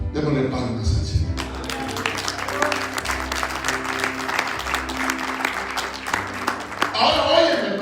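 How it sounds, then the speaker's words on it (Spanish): Church congregation clapping along during a Spanish-language worship service, with dense, continuous hand claps over sustained music and some voices mixed in. "Démosle palmas al Señor."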